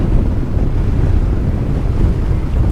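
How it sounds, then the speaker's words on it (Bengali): Strong wind roars across the desert near Hurghada on a desert safari, a loud, steady low buffeting rumble battering the microphone throughout. "বাবা প্রচুর হাওয়া দিতেছে"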